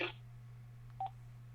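Telephone keypad tones sound during a call over a steady low line hum, with a short burst at the start and a brief tone pair about a second later.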